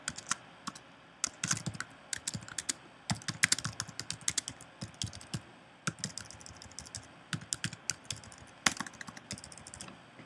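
Fingers tap quickly on a computer keyboard in close, irregular bursts of sharp clicks with short pauses, steady and fairly quiet, with no voices.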